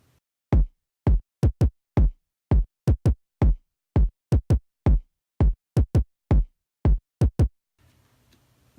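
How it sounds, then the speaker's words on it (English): Kick drum samples from the bridge of a remade pop instrumental, a run of about twenty punchy, deep thumps in quick uneven pairs and singles, loud and dry, ending in a faint low hum. "there's some kicks in the bridge that are different. They sound like this"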